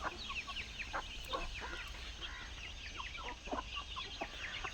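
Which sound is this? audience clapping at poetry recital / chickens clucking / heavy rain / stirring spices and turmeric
chickens clucking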